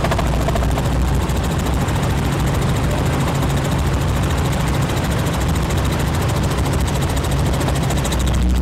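A tour helicopter over a jungle area in the Top End gives a loud, steady roar with a fast rotor thump throughout, heard close and continuous without any talk.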